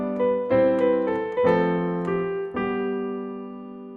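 A short, lilting jig melody of about eight plucked or struck notes, played alone at a moderate tempo with a clean, sustained tone.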